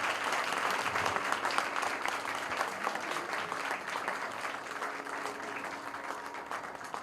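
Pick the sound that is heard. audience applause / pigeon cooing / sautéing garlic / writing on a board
audience applause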